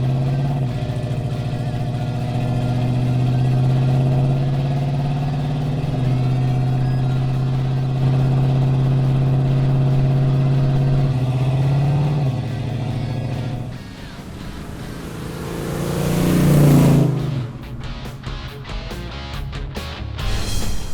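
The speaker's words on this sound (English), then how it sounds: "Driving this 1973 Javelin today was outstanding." A 1973 AMC Javelin muscle car engine runs with a steady, loud low rumble and drone for a long stretch, then dips and surges as the car revs and pulls away, ending in choppier engine pulses.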